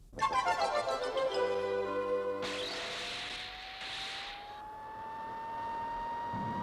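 Jet air car engine in a Joe 90 racing video game, a loud whooshing roar with a rising whine that swells and sustains throughout, with layered synthetic engine tones and no talking.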